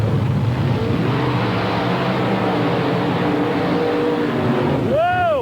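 Early-model Ford mud racing cars at a San Jose mud drag event roar through deep mud, a dense continuous engine rumble from a distance with a rising engine whine at the end.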